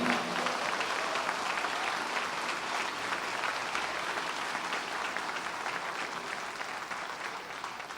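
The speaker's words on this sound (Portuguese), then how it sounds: "Pode aplaudir ao Senhor com alegria" A church congregation applauds, a dense, even roar of many hands clapping that holds steady for several seconds and tapers slightly at the end, with no clear talk over it.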